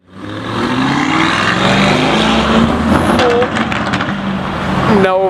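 A Porsche Carrera GT sports car passes with a loud, sustained engine roar whose pitch shifts as it goes by, with outdoor background noise throughout.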